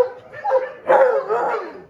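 Several dogs at a mountain base bark and yelp excitedly on seeing their returning owner, loud and close, in two bursts of overlapping barks with whimpering yips between.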